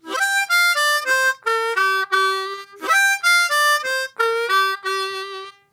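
A blues harmonica turnaround played solo: a quick run of bright reedy notes stepping downward with a bent low note, repeated twice in a lively rhythmic phrase, close and clear.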